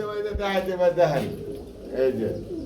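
Soft cooing of Gangchil breed pigeons close by, partly buried under someone talking.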